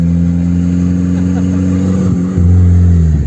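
A turbocharged VW AP 20V car engine runs loud and steady close by, then revs up and surges as it accelerates near the end, at a car meet with drag runs.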